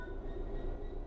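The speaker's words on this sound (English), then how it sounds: "Apply some throttle to get the train moving." Train Sim World 4 locomotive pulling away after its brakes release, a steady low rumble with faint electric whine tones running throughout, even and continuous with no talk.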